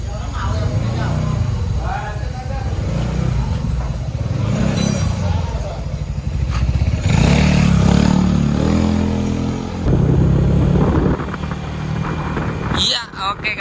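A Yamaha XMAX scooter bored up from 250cc to 300cc on a test ride: a steady engine drone under heavy wind buffeting, with a brief rise in revs midway, heard close throughout.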